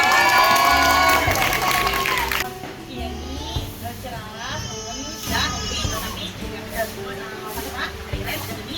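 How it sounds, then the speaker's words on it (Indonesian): Clapping from a group breaks out, loud and dense at first, then thins out as children's voices and background chatter take over. "kasih tepuk tangan"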